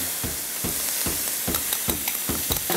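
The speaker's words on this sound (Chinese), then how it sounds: "那我们现在呢，给它一点油哈，煎蛋。" An egg fries in hot oil in a pan for curry pineapple fried rice, a close bright sizzle broken by repeated crackling bursts and scraping strokes roughly every half second, with no talking.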